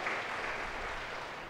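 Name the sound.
applause for the priests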